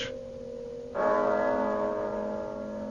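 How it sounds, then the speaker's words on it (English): One deep church bell strike rings out in a 1965 radio drama of A Christmas Carol, loud and close, its sustained tone slowly fading after the first, faint tail of a previous toll. "of a visitation when the bell tolled 1."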